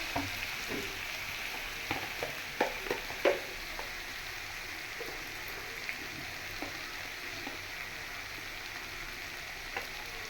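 Masala cooking in a pan for a Hyderabadi mutton liver curry gives a low, steady sizzle, punctuated by a few soft scrapes and taps of a spoon stirring it, with no voices.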